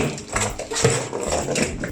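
A dog plays with a toy close by, giving muffled snuffling, mouthing and soft rubbery squeaks and thumps that continue steadily without talk.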